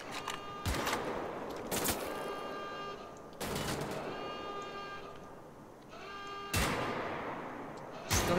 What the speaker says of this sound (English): Still hear gunshots.